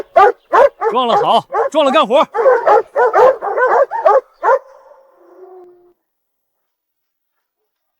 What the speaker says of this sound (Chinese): 这些小土狗咋了？